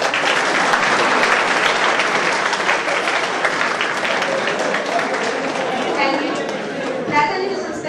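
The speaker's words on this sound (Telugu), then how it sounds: "చప్పట్లు." Sustained applause from an audience at a study circle batch's farewell party, a dense, steady clapping that fills the room, with crowd chatter mixed in toward the end.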